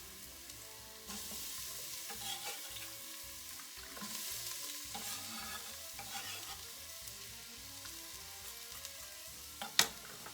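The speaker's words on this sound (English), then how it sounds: "Once our oil is shimmering, it's pretty shimmery, we're gonna dump in our garlic and our jalapenos." Garlic and jalapeños sizzling in shimmering hot oil inside an Instant Pot, a soft steady crackle with occasional stirring scrapes and one sharp clink near the end.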